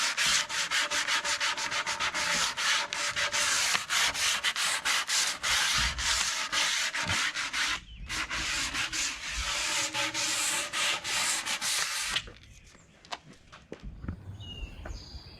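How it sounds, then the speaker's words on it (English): Sandpaper rubs hard and steadily along the sides of a wooden tabletop in a loud, close, rhythmic scratching, pausing briefly and easing into lighter strokes toward the end. "So you want to make sure that the sides are nicely sanded as well."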